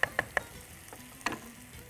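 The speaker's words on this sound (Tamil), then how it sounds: "இந்த கோவக்காயை வதக்கிடலாம்" Ivy gourd sautéing in a pan gives a faint sizzle broken by a few sharp metallic clicks of a spatula against the pan, quiet and close.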